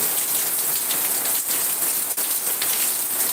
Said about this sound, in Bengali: প্রচুর পরিমাণে কিন্তু বৃষ্টি হচ্ছে দেখতেই পাচ্ছেন